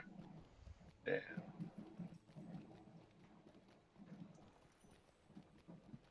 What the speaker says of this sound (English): I'm still on a horse going to Orc Watch.